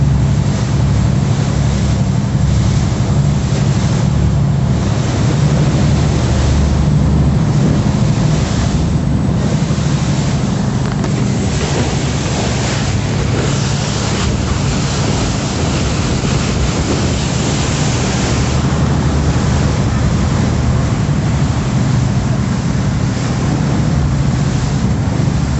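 A boat rides choppy water on a Bangkok ride, waves sloshing and slapping steadily against the hull with a low motor rumble and gusts of wind buffeting the microphone throughout, loud and continuous with no talking.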